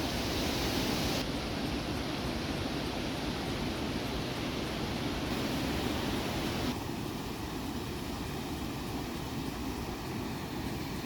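Waterfalls rush steadily in the retro game Dark Cloud, a dense broadband hiss of falling water holding constant at moderate loudness for the whole stretch, with slight shifts in tone and no voices.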